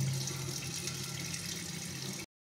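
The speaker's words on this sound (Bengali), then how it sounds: "ঝিঙেগুলোকে এইভাবে আমি একটু ভালোভাবে ধুয়ে নিচ্ছি" Ridge gourds are washed under running tap water, a steady rushing splash close to the sink that continues without pause and then cuts off abruptly at the end, with no voices.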